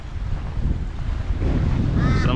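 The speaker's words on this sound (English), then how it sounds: "It's just bloody gale force wind here again." Gale-force wind buffets the microphone on a beach at Weipa, a loud, rumbling roar that swells and stays strong, with surf faintly underneath and a brief tonal whistle near the end.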